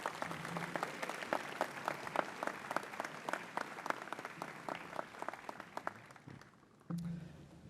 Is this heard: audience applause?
yes